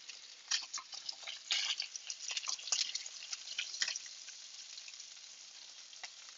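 Pieces of petrale sole fry in a pan with a steady, crackling sizzle broken by sharp pops and spits, close-up and fairly quiet, with no talking.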